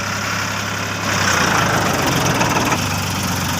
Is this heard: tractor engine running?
yes